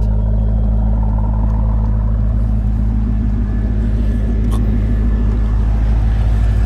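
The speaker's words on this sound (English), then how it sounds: "There's that Borla exhaust." A 2003 Chevrolet Corvette 50th Anniversary edition with a 5.7L V8, six-speed manual and Borla exhaust idles close by, giving a loud, steady, deep rumble that continues unbroken.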